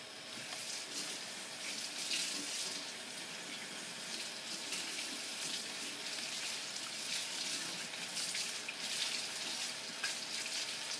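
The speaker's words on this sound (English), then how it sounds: "I'm gonna start washing up some kale" Kitchen faucet running steadily into a sink while kale is washed, a constant close rush of water with faint splashes and no voices.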